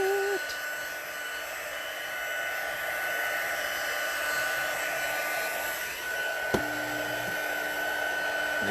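A heat tool blows steadily, its fan hum and rushing air continuous as it melts embossing powder, with a soft click near the end.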